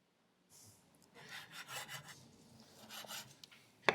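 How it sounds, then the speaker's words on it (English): A thick spice crust is scraped off air-dried cured beef pastırma in a run of dry, rasping strokes with a hard knock at the end, all quiet and close. "I want to get my thick spice rub off the meat before I chop it"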